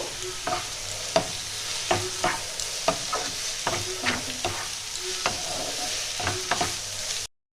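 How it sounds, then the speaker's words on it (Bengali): Onion and capsicum frying lightly in a pan for Mumbai street-style pav bhaji, a moderate sizzle with regular stirring knocks and scrapes of a spoon every half second or so, ending abruptly. "ক্যাপসিকাম, আমি পেঁয়াজটা বেশি ভাজবো না, হালকা করেই ভাজবো।"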